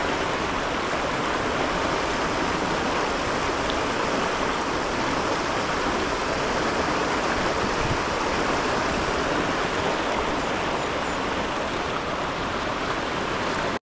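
Rushing water from a large waterfall and stream on a hike, a dense, steady broadband roar that stays loud and close the whole time, with no talking over it.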